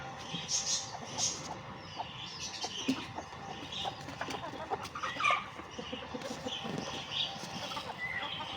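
Chickens cluck and squawk around clay pots of soil used for sand bathing, with scattered close clucks, a few sharp cries and chirps over a rustling farmyard background, no speech.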